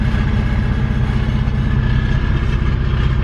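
A car with a loud, damaged exhaust idles close by, giving a dense, steady low rumble with a rapid pulsing throb that never changes pace.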